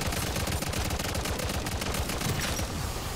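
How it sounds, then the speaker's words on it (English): Rapid, continuous automatic gunfire from a weapon in Modern Warfare 3 Zombies rattles loud and close without pause, a dense stream of shots throughout. "I think I figured out how to shoot as fast as possible"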